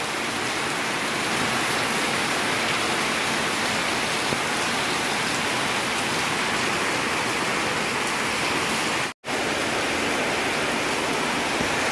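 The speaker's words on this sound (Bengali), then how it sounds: "প্রচণ্ড বৃষ্টি হচ্ছে হয়তো ক্যামেরাতে ঠিক মতো দেখা যাচ্ছে না আমার এই নতুন মেহেদির গাছের ডালগুলোতে বেশ বৃষ্টির কোটা পড়ছে" Heavy rain pours steadily onto the branches of a young henna plant, a dense, loud, continuous hiss that stays even throughout except for one instant dropout near the end, with no voices.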